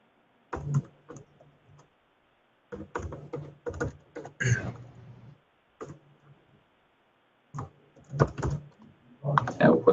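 Bursts of close keystrokes on a computer keyboard as information is entered into warehouse software, with clicks in quick clusters separated by short silent pauses.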